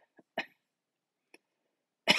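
Several short coughs close to the microphone, spaced irregularly with silence between, ending in a louder, harsher burst.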